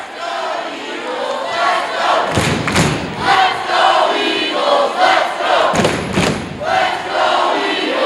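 Weyburn home crowd at a girls' high school basketball game yelling loudly and steadily throughout, with a couple of sharp thuds and bursts of louder cheering rising above the din.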